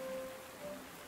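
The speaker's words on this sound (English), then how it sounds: "It's raining again." Steady rain ambience from the World War II strategy game Panzer Corps 2, a soft, even wash of falling water with a faint tonal hum beneath it, quiet and continuous with no voices.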